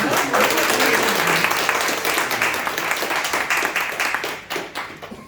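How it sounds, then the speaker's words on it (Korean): A lecture audience at a political academy gives loud, sustained applause to welcome a doctor lecturing on international politics; the dense clapping holds steady, then thins and tapers over about five seconds. "힘찬 박수로 맞이하며"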